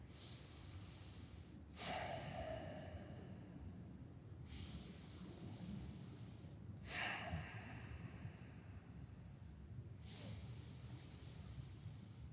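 Slow, deep breathing during a relaxing yoga stretch, with two long audible breath cycles: soft inhales followed by longer airy exhales, close and quiet with no talking.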